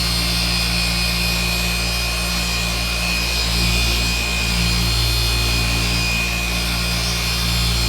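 A hand presses fast-correcting cream compound into scratched paint with quick back-and-forth passes, producing a close, loud, steady rubbing swish that barely varies over several seconds.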